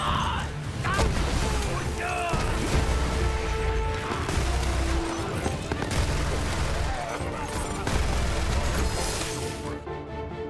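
Rapid bursts of gunfire from the Flood weapon in Borderlands 3 rattle continuously and loudly, layered with game effects and impacts, with a voice talking over the shooting.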